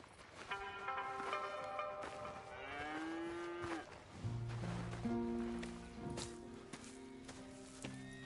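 Cows moo on a farm in the video game Red Dead Redemption 2, several long, low drawn-out moos one after another, close and clear over faint ambient game sounds.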